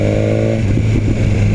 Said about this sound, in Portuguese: Ó o pipoco, cara.